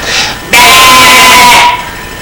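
A sheep gives one loud, sustained bleat lasting about a second, with a fainter animal call just before it, close and alone.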